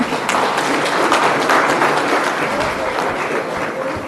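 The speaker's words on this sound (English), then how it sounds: "So once there should be a great round of applause." Crowd applause at the Street Summit 2.0 event in Hyderabad, a steady dense round of clapping filling the whole stretch at close range, with faint voices mixed underneath.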